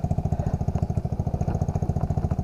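A Yamaha XTZ 125 motorcycle on a dirt trail, its single-cylinder engine running with a fast, even, throbbing pulse, close and loud with no talk.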